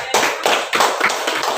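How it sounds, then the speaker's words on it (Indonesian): A classroom of students claps for a group that has just presented, with a handful of loose, uneven bursts of hand claps heard close by and no one talking. "tepuk tangan untuk kelompok 2."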